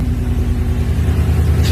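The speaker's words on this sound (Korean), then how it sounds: "요 배기음 소리" A GMC Sierra 1500 Harley-Davidson limited edition pickup revs its exhaust with a steady, loud, deep engine rumble held throughout, close by, with a slight rise near the end and no talk.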